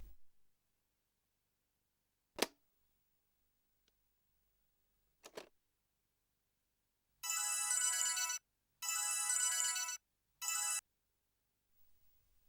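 A phone call's ringing tone in a Tamil TV serial scene comes as three bursts of electronic ringing, the last shortest, after a mostly quiet stretch with a couple of faint clicks.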